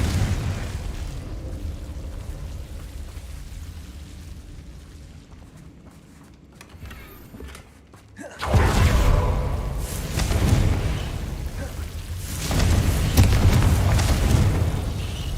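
A Confringo fire-blasting spell in Hogwarts Legacy erupts: a low rumbling build gives way to a loud, sudden blast about halfway through, followed by a sustained roaring boom and a second surge near the end.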